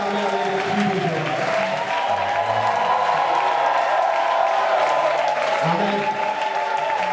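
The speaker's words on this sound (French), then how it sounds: "Est-ce que tu peux acclamer avec le cri de joie?" A church congregation at a worship retreat applauds and cheers loudly and continuously, with shouts of joy rising and falling across the whole stretch and a voice briefly speaking over the crowd.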